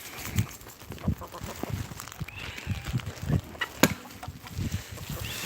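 Chickens clucking in a garden, a run of short, repeated clucks and squawks coming at irregular intervals, fairly close, with a sharper squawk partway through and light background noise.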